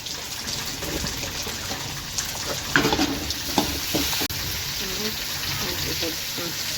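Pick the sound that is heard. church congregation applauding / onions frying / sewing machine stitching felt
onions frying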